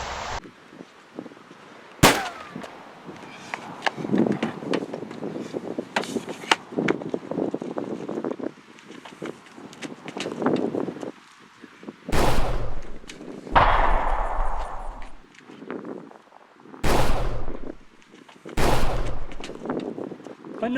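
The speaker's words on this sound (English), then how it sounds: "Another occupational hazard, getting shot at by a fellow employee of Vegas Patterson's." Gunshots ring out in a drama scene, several sharp, loud bangs spaced through the stretch, mixed with talking and other noise.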